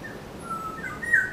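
Birds sing at Jongmyo royal shrine in Seoul at midday, with bright whistled calls and chirps repeating through a quiet, faintly noisy open-air ambience and no voices.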